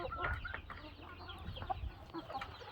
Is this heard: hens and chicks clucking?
yes